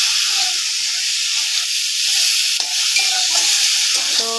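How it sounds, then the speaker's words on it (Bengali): Pre-fried fish is tossed with spice paste in a hot pan, a close, dense sizzle broken by repeated scraping and stirring strokes of a spatula. "এখন মাছটার সাথে ভালো করে কষাবো মশলাটাকে।"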